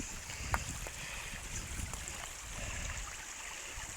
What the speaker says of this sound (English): Here's the water running down.